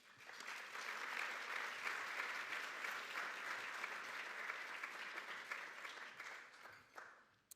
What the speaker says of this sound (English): join me in a round of applause for our tremendous HR Achievement Award honorees